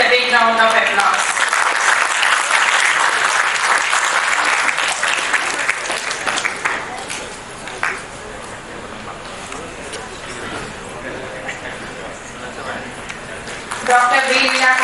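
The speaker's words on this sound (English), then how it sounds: "Let us welcome her with a big round of applause." A seated gathering gives sustained applause welcoming Professor Santishree Dhulipudi Pandit at an academic session, loud at first, then thinning and tapering, and a voice speaks near the very start and end.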